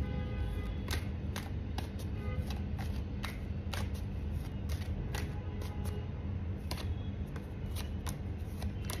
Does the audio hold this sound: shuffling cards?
yes